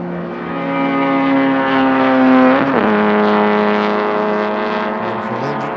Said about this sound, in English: Beautiful engine sound right there,